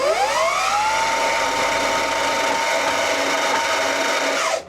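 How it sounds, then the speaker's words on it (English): A King Goat e-bike hub motor spins freely, whining up quickly in pitch to a loud, steady high-speed electric hum that holds for several seconds, then cuts off abruptly. "I'm going to show you how fast the free spinning speed is of this bike"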